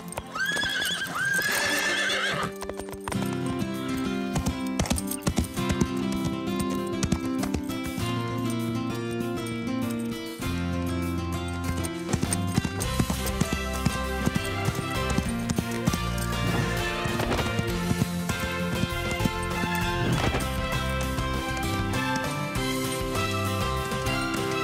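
Horses neigh and hooves clip-clop in a cartoon, a whinny near the start followed by steady rhythmic hoofbeats under a busy music score.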